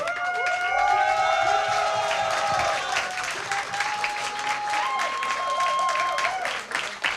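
Large audience at a StarCraft 2 WCS Europe Premier League quarterfinal match applauding and cheering steadily throughout, with whistle-like tonal sounds over the broadband clapping.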